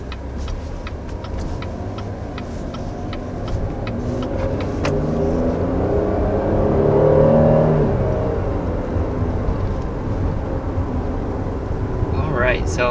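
A 2020 Cadillac XT6 pulling away on the road, heard from inside as a steady low engine and road hum that swells gently midway, with some faint ticking clicks and a voice talking over it.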